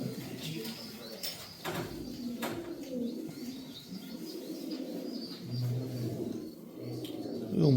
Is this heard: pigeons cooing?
yes